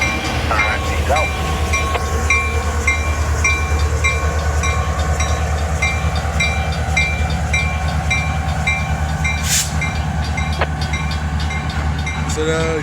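Train rolling past on the Philly Sub railroad, a loud continuous rumble with wheel clatter and squeal close by, a brief high burst partway through.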